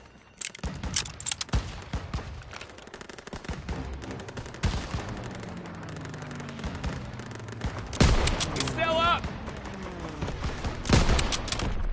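Rapid gunfire crackles through a Call of Duty WW2 battle, with repeated sharp shots and dense automatic bursts, heaviest near the end, over a low rumbling backdrop.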